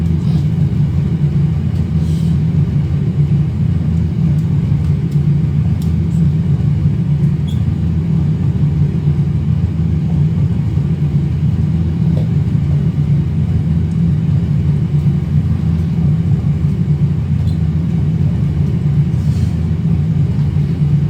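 Airbus airliner on final landing approach to Mumbai, a steady low engine roar and rumble heard from inside, constant and loud throughout with no breaks or talking.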